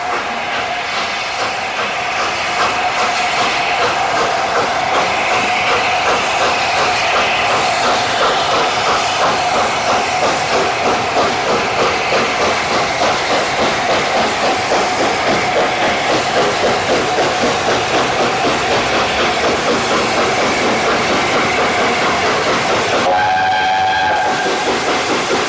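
The Mallard steam locomotive hauls a train into Westbury Station, a loud sustained roll of wheels with rhythmic clickety-clack, and a whistle sounds briefly near the end.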